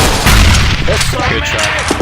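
Video game gunfire, loud and close, with a heavy blast early on followed by more shots and action noise, while a person's voice is briefly heard.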